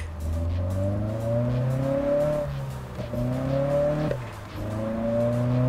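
Toyota 86 in the Japanese Drift Master racing game, engine held at high revs through long climbing pulls broken by quick gear-change dips, with faint tire squeal underneath and no talking.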